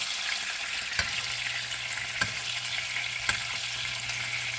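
A steak sizzles steadily in a hot pan, constant frying hiss with a few sharp spoon taps or clinks as oil is spooned over it, close and alone with no talk.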